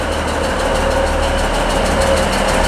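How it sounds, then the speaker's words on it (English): A class 70 diesel locomotive running light engine passes through Carlisle station on the West Coast Main Line, its steady, loud low engine drone and throb filling the whole stretch without any talk. "we've got a light engine class 70, which might be the same one that came through earlier"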